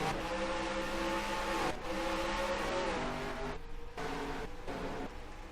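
Race car engines drone steadily in a Nintendo stock-car racing game during a night race, a loud, continuous buzzing roar that dips briefly near the end, with no talking.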